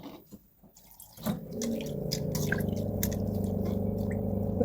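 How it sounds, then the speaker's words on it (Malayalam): Water poured from a glass into a beef pickle mixture, a quarter glass in all, sounding as a close, steady trickling stream that starts after a few faint clicks and runs continuously to the end. "ഞാൻ ഇത്തിരി വെള്ളം, ഒരു 1/4 ഗ്ലാസ് വെള്ളമാണ്"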